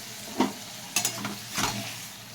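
A spiced tomato, onion and green chilli mixture fries in oil in a pan, with three distinct stirring scrapes over a low steady sizzle, close and fairly quiet, no voices.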